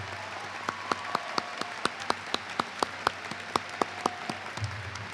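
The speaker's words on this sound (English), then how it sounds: "Can you give them a round of applause," A graduation audience at Bedford High School applauds students entering military service: sparse, distinct hand claps in a steady rhythm that read as a modest group clapping in a large hall.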